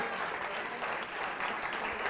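Studio audience applauding on a Catalan television word-game show, a steady dense clapping that fills the whole stretch at moderate level.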